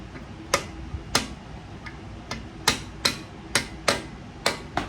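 A screwdriver pries old, greasy lifters out of a Ford 302 engine block, giving about ten sharp metallic clicks and taps at a loose, uneven rhythm, close and crisp against a quiet room.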